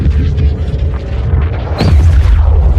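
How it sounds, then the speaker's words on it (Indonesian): A deep, rumbling boom of an energy module exploding on a spacecraft, with heavy low-end throbbing, followed by a sharper burst partway through, loud and sustained like a continuing blast. "terjadi ledakan pada modul energi."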